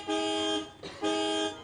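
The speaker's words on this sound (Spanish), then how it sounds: "¡Qué cansino sois con el claxon" Two loud, sustained car horn blasts sound close by, each lasting about half a second, separated by a short break with traffic noise in the background.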